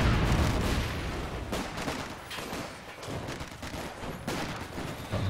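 Machine gun fire from a trench in the video game Company of Heroes 2, dense rattling bursts blending with distant battlefield gunfire and explosions, loud and continuous.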